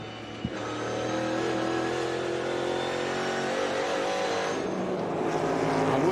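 NASCAR Cup Series stock cars racing at North Wilkesboro during the 2023 All-Star Race, a continuous loud engine roar with a sharp knock near the start, revving steadily as the field runs, and nobody speaking.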